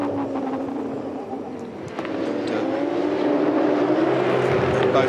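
V8 Supercars race cars roar around the track at a 2007 championship race in Tasmania, a loud sustained engine drone with rising pitch as the cars accelerate, heard under a commentator's voice.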